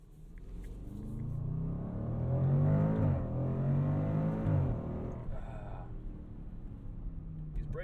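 A 2021 Range Rover Sport SVR Carbon Edition accelerates hard from inside the cabin, its engine note climbing in pitch through gears with a deep, rising rumble, a brief dip at a shift, then steady.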